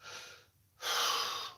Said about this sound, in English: So when you're lifting, you want to breathe.